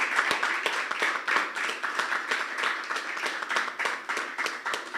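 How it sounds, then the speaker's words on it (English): A room of people at a company's annual general meeting gives a round of applause, dense steady clapping from many hands that keeps going throughout without fading. "Give Marianne a round of applause."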